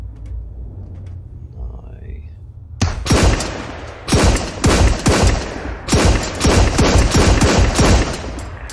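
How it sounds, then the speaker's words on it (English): Bursts of automatic gunfire from a player's weapon in a first-person shooter on a merchant ship, loud rapid volleys starting after a quiet stretch and repeating in several clusters, with voices talking faintly in between. "That was me shooting"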